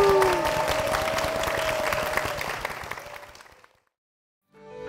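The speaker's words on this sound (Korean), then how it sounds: "주께 영광의 박수를 드리겠습니다" A church congregation at Saejungang Church gives a burst of applause during worship, loud and full before fading away into silence near the end.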